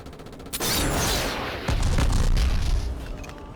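A sudden loud blast followed by a heavy booming rumble and crackling debris, a thunderous video game explosion that swells and slowly fades.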